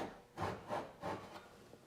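A hand saw lightly cutting into cherry wood, three soft rasping strokes close by with quiet pauses between them.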